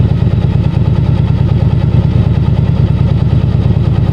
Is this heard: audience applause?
no